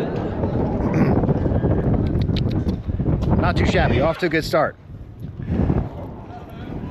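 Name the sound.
wind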